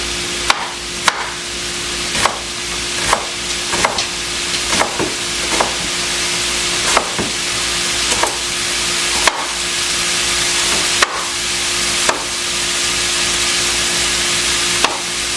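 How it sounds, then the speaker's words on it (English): A knife chops an onion into small pieces, striking about a dozen crisp, evenly spaced times over a low steady background hum, with no voices. "So we're just going to chop this onion. So I'm going to cut it in sort of small pieces"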